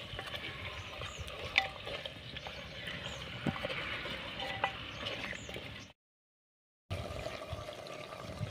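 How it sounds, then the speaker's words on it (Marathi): Mutton masala being stirred in a clay pot over a village wood-fired stove, with soft scraping and wet stirring sounds close by over a low sizzle, broken by a brief gap of silence. "आता हे छानपैकी आपण ढवळून घेऊया थोडंसं।"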